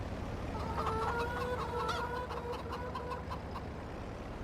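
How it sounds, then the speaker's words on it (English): Chickens cluck in the farmyard of the Farming Simulator 22 farming game. Several birds trill and chatter together in a steady stream over a low ambient rumble, with no talk. "Chickens, please move."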